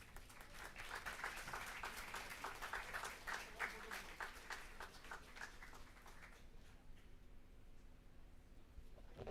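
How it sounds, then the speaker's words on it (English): Applause from an audience at a college ceremony honoring a chairman, a fairly faint, dense patter of clapping that fades out toward the end, leaving low hum. "Round of applause, please."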